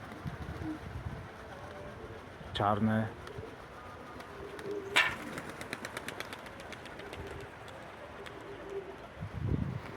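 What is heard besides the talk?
young pigeons on first flight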